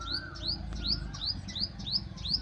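A small bird, fallen to the ground in a storm, gives a rapid series of thin, high chirps, about eight in quick regular succession, close by and fairly faint over a low background hum.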